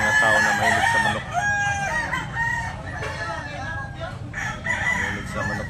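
Several roosters crow among kept fowl at Tabunok, long strained calls overlapping one another with clucking in between, fairly close and loud, with some talk in the background.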